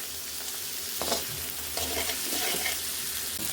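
Dried loitta fish (shutki) sizzles as it is stir-fried with spice masala in a pan, giving a close, continuous frying crackle with bursts of spatula scraping and stirring.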